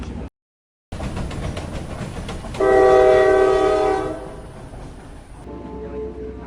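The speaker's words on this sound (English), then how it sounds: "we took the night train to Shanghai from Beijing." A night train running from Beijing to Shanghai rumbles along steadily, with a loud, sustained horn blast partway through that cuts off, leaving the rolling rail noise and faint clatter behind.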